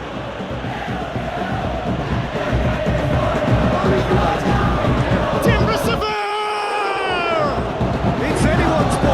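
Crowd noise in the PES 2021 football game during a PSM Makassar vs Bali United match, a loud, sustained roar of fans with rising whistle-like cries, and a commentator talking over it.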